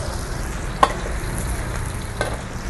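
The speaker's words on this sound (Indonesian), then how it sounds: "Proses penggorengan dari daging sapi ini tidak begitu lama guys" Soft crackling sizzle of beef frying in a pan for black pepper beef, with a couple of brief clinks of a utensil stirring.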